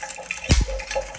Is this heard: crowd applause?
no